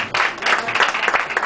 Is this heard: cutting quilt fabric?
no